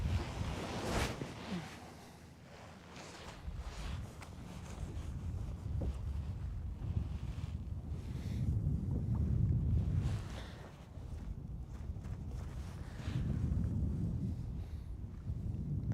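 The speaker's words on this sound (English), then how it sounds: "The wind is blowing onto that point over there." Steady wind rushes across open water on Lake Guntersville, buffeting the microphone in broad low swells with gentle lapping waves beneath, no voices present.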